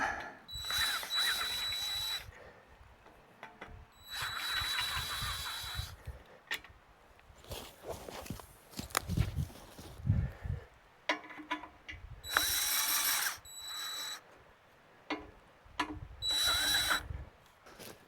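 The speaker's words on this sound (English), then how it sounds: "Now, take my screw gun and we'll level it out." Screw gun driving screws while levelling a piece of work, several bursts of whirring, ratcheting motor noise separated by short pauses and handling clatter.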